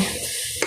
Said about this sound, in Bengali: মশলাটা কষিয়ে নিলাম।